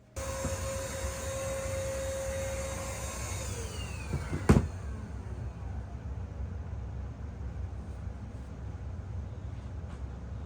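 A longarm quilting machine sews a quilt with a steady motorized whir and hum that holds evenly throughout, with a falling whine early on and a single sharp click midway.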